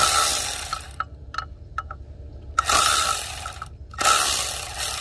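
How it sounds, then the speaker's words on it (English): An electric ratchet loosens water pump bolts on a 2012 Chevrolet Camaro 3.6, giving two or three short whirring bursts separated by quiet gaps, close up with no talking. "So I'm just gonna use my electric ratchet. So we just loosen up those."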